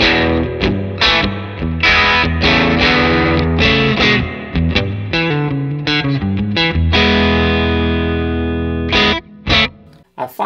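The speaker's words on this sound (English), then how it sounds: "you can get that really nice, lush, dark, warm reverb" An electric guitar is played through a ScreaminFX Uverbia real spring reverb pedal, with strummed chords and single notes ringing out into a dark, warm spring reverb tail, loud and close with brief pauses and no talk.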